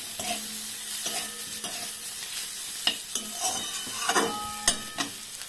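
Dried loitta fish masala with Kashmiri chili fries in a pan, a close, steady sizzle broken by repeated scraping stirs of a spatula and occasional sharp clinks against the pan.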